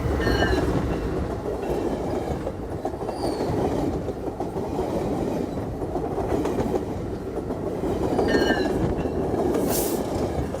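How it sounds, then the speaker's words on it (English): A train rolls past nearby, a loud continuous rumble of wheels and cars with clickety-clack rhythm and brief high squeals of wheels on rails, steady for about ten seconds with no talk. "The train's going by."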